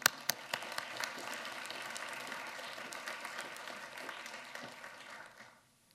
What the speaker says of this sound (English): So here's another round of applause